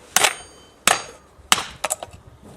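Several hard hammer blows land in quick succession, three heavy thuds followed by a few lighter knocks, close up with no talking.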